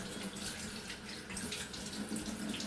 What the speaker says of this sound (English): now you want to give your hands a quick rinse